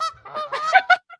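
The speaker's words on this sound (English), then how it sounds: "I could just play some geese." Played from a recording, geese honk loudly in a cluster of harsh, overlapping calls that build to two strong honks before a brief pause and one short final note.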